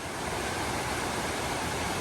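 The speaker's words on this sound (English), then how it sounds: "We're beside the waterfall now." Beech Bottom Falls waterfall heard up close on a hiking trail, a steady, dense roar of rushing water that stays loud and even throughout, with no voices.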